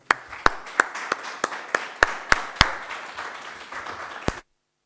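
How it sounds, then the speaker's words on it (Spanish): An audience at a literary lecture on rivers and literature claps after a speaker's introduction, producing a run of sharp, irregular claps over a soft rustle for about four seconds before stopping abruptly. "Un aplauso."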